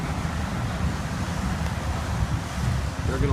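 Strong, steady wind roars through a severe thunderstorm in Libertyville near Chicago, a dense continuous rush buffeting the microphone for the whole stretch, with a faint low tone near the end.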